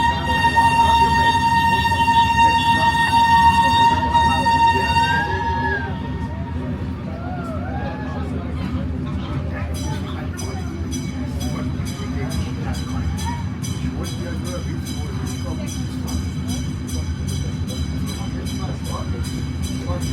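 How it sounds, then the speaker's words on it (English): An antique steam train in Frankfurt rolls along its rails with a constant low rumble. Sustained whistle-like tones ring over it for the first few seconds, then a steady run of rhythmic clacking follows. "riding the steam train is one of the fun things"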